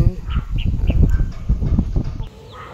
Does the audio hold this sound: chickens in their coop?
yes